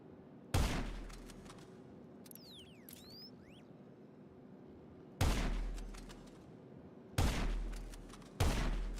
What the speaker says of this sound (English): My explosive sniper shots are not enough?